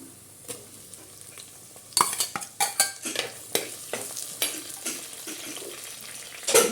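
Tomatoes sautéing in a pan for a fish curry, with a constant sizzle under a run of sharp stirring scrapes and taps of the spoon, close and fairly loud, no talking.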